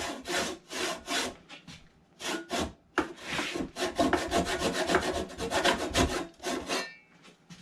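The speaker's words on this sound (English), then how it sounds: "I'm just going to clean that out with our miter saw" A miter saw rasps against the wood in quick rhythmic strokes as it widens a kerf in an axe handle, loud and close with no talking.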